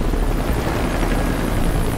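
Helicopter in Metal Gear Solid V, a steady, loud rotor drone with broadband wash that holds without break throughout, no voices.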